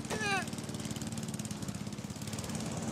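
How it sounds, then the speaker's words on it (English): A lawn mower in a cartoon chugs steadily with a rapid, knocking engine pulse, moderately loud, with a brief voice-like sound at the start. "the elderly neighbor, Pops, mowing his lawn."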